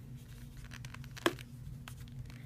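A Pokemon card pack wrapper being torn open by hand, with one sharp rip in the middle over faint crinkling and rustling, quiet and close.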